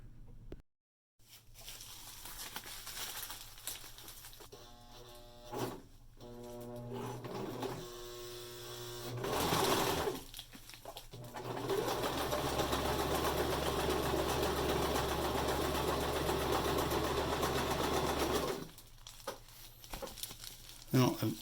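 A home sewing machine, just brought back into use after years idle, runs in short stop-start bursts and then a longer steady whirring stretch of stitching, close by, with a few handling clicks and rustles and brief pauses between runs.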